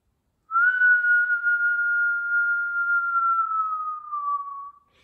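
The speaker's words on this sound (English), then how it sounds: "maybe you even make a noise with your breath" A single long, steady whistle from blown breath, clear and close, holding one pitch before dipping slightly and fading out.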